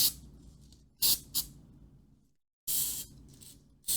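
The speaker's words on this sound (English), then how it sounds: "I'm going to spray that and let so it runs down in there" Short hissing bursts of aerosol spray come in uneven puffs, some brief and one lasting longer, close by with quiet pauses between, sprayed into a revolver kit.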